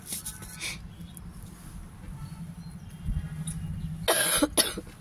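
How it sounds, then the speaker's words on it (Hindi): Several harsh coughs come in bursts, one near the start and a louder cluster toward the end, close to the microphone. "खांसी हो रही है मुझे"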